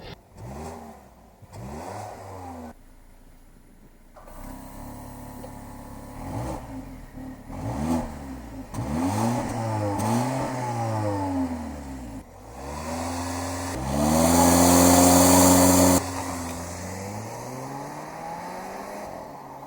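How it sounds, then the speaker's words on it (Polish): A Volvo XC60 T6 with a four-cylinder engine revs repeatedly while driving, rising and falling sweeps through gear changes, then a loud sustained acceleration near the end before easing off. "Jedynym minusem silników R4 jest oczywiście kultura pracy i dźwięk silnika"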